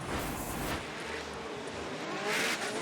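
A drift car at Formula DRIFT Orlando roars past, its engine note sustained and loud with a surge near the end, tire noise blending into the steady outdoor din.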